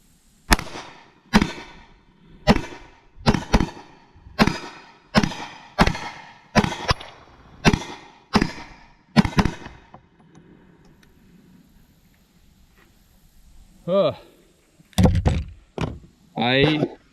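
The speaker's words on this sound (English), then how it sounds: "I wanted to get some mag dumps out of the way" Magazine dumps at a shooting range: about a dozen loud, sharp gunshots fire at a quick, even pace, then a quiet stretch before a few spoken bursts and brief noises close by.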